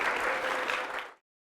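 A studio audience on a French television programme applauds in a steady, dense wash of clapping that cuts off abruptly after about a second.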